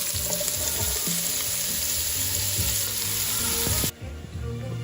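Vegetables going into a pot of wild boar and rabbit stew set off a loud, steady sizzle with clattering stirring that runs for about four seconds, then drops abruptly to quieter frying.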